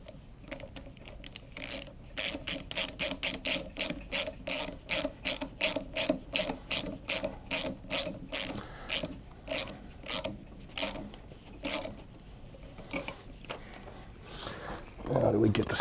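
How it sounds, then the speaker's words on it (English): A hose clamp being tightened during 10R80 transmission sealing ring work: a close, crisp ratchet clicks in a steady run of evenly spaced strokes, pauses briefly, then resumes with a few more clicks and a final clatter. "now we're going to tighten down our hose clamp"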